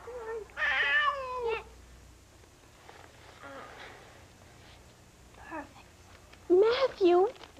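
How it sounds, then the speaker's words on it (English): A cat meows several times, two drawn-out calls at the start and another pair of sharp meows near the end, with quieter murmurs in between. "why did you chase the cat out of the litter box?"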